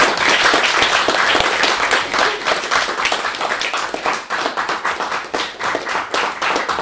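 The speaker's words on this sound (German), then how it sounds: "Tumultartiger Applaus." A lecture audience claps and applauds loudly and steadily after a talk at a hackerspace. Dense handclaps continue for several seconds and thin slightly toward the end.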